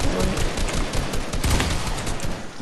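Rapid, dense bursts of gunfire from the Fortnite video game crackle nonstop at close range, several weapon shots overlapping into a loud fusillade with no pauses.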